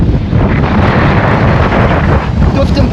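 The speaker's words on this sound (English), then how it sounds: "Very windy." Strong wind buffets the microphone on an exposed hilltop summit of about 1,949 feet, a loud, continuous low roar and rumble with steady gusting throughout and no speech.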